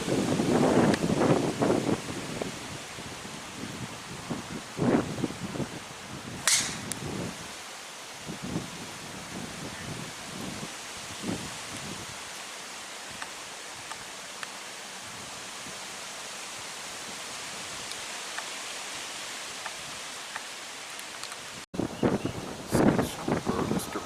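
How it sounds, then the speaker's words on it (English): Strong wind gusts across a golf course during a four-ball championship, a steady broadband rush roaring over the microphone for the whole stretch, with short bursts of louder buffeting near the start and again at the end. "This might be the strongest the wind has blown all day here."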